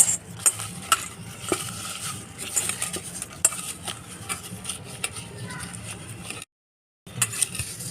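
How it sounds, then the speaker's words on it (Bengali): Gondhoraj lemon leaves are crushed with black salt in a home kitchen, making faint scraping and mashing sounds with scattered small clinks over a quiet background, followed by a brief silence near the end. "এই গন্ধরাজ লেবুর পাতা বিট লবণ দিয়ে একটু চটকে নেবো"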